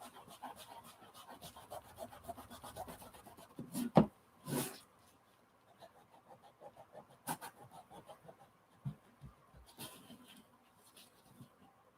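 Canvas for a tipi being rubbed to give it an aged look, a faint, steady scratchy scrubbing with irregular strokes and a couple of louder knocks midway.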